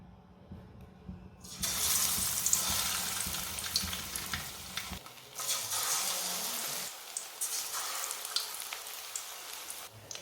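Potato kebabs coated in gram flour batter drop into hot oil and fry with a loud, steady, close sizzle that sets in after a quiet start, easing a little and then again as the frying goes on.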